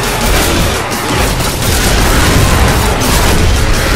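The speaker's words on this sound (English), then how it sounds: "Throwing a pipe bomb." A pipe bomb going off in the video game Left 4 Dead 2, a loud continuous roar of blasts and crackling debris that fills the whole moment, with no clear speech.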